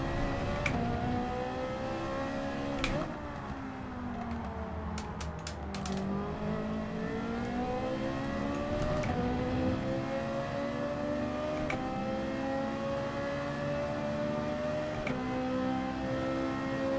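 A Ferrari Group 3 race car in Gran Turismo 7 at Fuji International Speedway holds a loud, steady engine note, dipping and climbing in pitch through shifts and a corner, with no talk over it.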